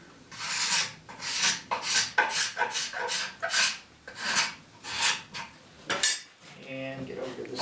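A scraper drawn repeatedly across a wooden chair arm rail, giving about a dozen rhythmic rasping strokes in a steady back-and-forth pattern, close and clear with no talking.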